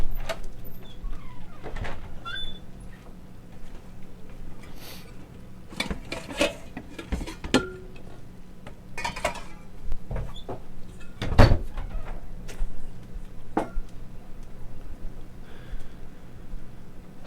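Kitchen cupboard doors knock and clatter as a bowl is taken out for mixing sausage, a series of sharp bumps and clicks spread over quiet room tone, with a few soft chirps in the background.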